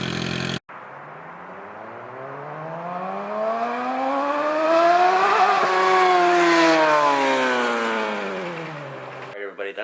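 A Suzuki GSX-R600 with a new, baffle-free exhaust revs up in one long rising and falling pull, loud and close, with a brief sharp burst at the start.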